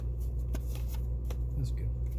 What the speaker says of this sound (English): Let's go ahead and continue just pulling cards.